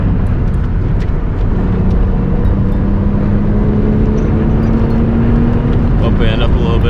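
A BMW Z3 on a track build with changed suspension and rims drives hard, its engine droning loud and constant with a rising tone from a rev-matched downshift near the end.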